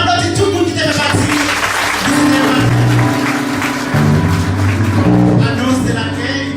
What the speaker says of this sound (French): On applaudit tout le monde qui était parti.